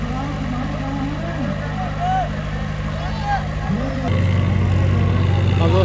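Mahindra 575 DI XP Plus tractor engines in a tractor pull contest against a Swaraj, with a steady low diesel drone that grows louder and heavier partway through, and voices talking over it.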